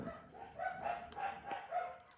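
Several dogs bark and yip in a steady, overlapping run, somewhat distant and muffled in the room, with no one speaking.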